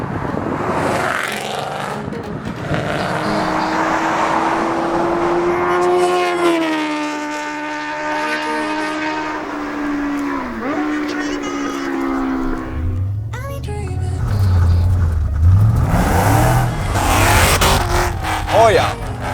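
A 600 hp Shelby Mustang GT500 engine roars through steady acceleration, the pitch climbing, then dropping with gear changes, then rising again, loud and close from inside the car, with someone talking over it.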